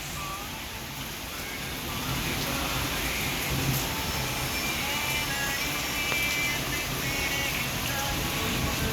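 Steady monsoon rain hissing down in a dense, even wash that thickens after the first couple of seconds. No clear thunder stands out.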